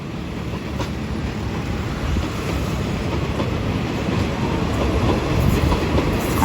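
Express trains, one of them an oil tanker express, passing each other at Bang Sue station in Bangkok, a loud continuous rumble of rolling wagons and wheels that builds slightly, heard close with no talk.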